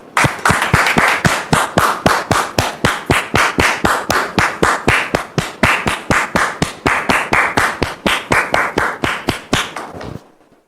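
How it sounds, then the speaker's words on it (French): A television talk-show audience claps in unison, loud rhythmic beats at a steady tempo for about ten seconds, then stops abruptly. "dame Georgette, que nous recevons sous vos applaudissements"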